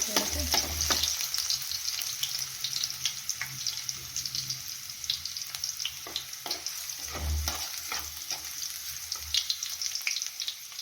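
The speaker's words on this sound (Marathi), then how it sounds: "तेल तापलं की यामध्ये टाकायचं आहे आपल्याला ठेचलेला लसूण फिरवून घेऊया" Crushed garlic fries in hot oil for a safflower-leaf dish, crackling steadily while a spoon stirs through it, with several brief scraping strokes and low knocks against the pan, close and clear.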